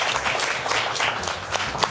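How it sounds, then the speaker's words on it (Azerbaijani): Studio audience at a comedy talk show breaks into applause, a dense steady patter of many hands clapping at moderate volume for a couple of seconds. "Alqışlayaq."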